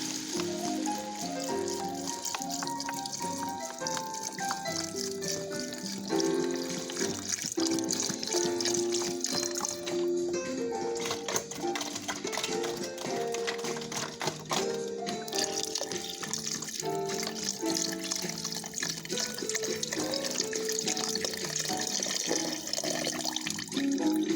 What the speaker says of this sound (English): And this time I'm going to add some broth in there. Add my vegetable broth.